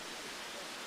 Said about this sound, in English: especially nice here with the waterfall